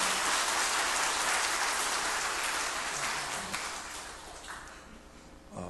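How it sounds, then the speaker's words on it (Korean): A church congregation applauds the choir during a Sunday service, a broad, steady wash of many hands that gradually fades toward the end. "우린 찬양대들 한번 격려의 박수 한번 하십시오"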